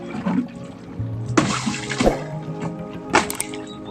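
Seawater splashes and sloshes up close as someone dives in, with several bursts of churning water and bubbling in between.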